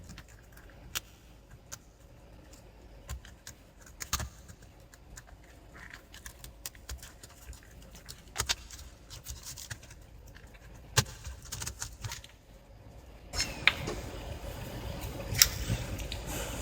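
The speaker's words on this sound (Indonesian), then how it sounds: "di sini saya akan lepas dulu keyboardnya" An Acer Aspire One D270 laptop keyboard is taken off, with scattered small clicks, taps and scraping handling sounds in a quiet room, getting busier and louder toward the end.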